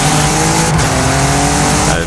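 An Audi RS4 with an eight-speed gearbox in Forza Horizon 5 drives at a steady, loud engine drone with a sustained tonal hum, close and continuous with no talk over it.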